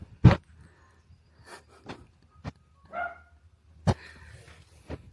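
A dog barks outdoors in a garden, giving several sharp, separated barks over a few seconds with quiet gaps between them, moderately loud against a faint background.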